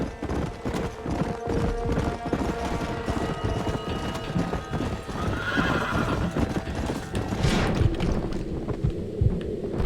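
A horse galloping and neighing in the Western video game Red Dead Redemption, with rapid hoofbeats drumming under a loud whinny, mixed with wind and game background sounds throughout.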